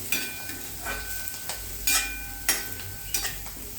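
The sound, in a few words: sautéing with goda masala and salt in pan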